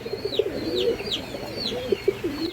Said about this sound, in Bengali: পুরো অ্যাক্টিভ কবুতর আছে।